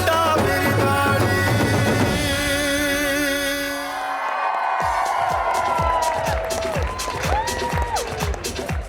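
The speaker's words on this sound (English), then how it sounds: "Big round of applause again, ladies and gentlemen." Audience cheering and clapping at a sangeet celebration, a loud crowd roar over music that gives way to scattered whoops and applause amid continuing music and a voice.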